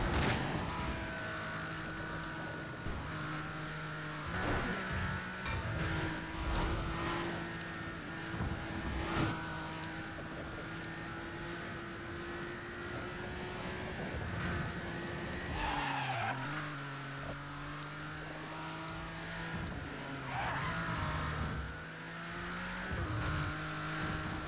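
A BMW Z4 GT3 race car with an open chamber exhaust howls loud and close on a hilly track, revving up and down through gear changes with tire squeal and skidding mixed in, steady and unbroken for the whole stretch.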